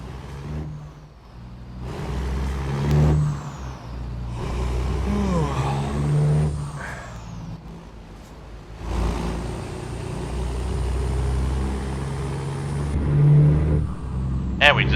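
Heavy truck engine in American Truck Simulator hauling an excavator, a steady low drone with gear-change dips and a hiss of air brakes, running continuously under the driving.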